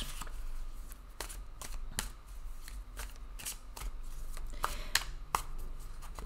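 Tarot cards are shuffled by hand up close, a quiet run of crisp riffling snaps and flicks in an irregular rhythm, with no talking.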